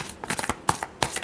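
A deck of cards is shuffled close by in a quick burst of crisp, rhythmic riffling flicks lasting just over a second.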